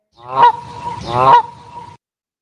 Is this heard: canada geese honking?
yes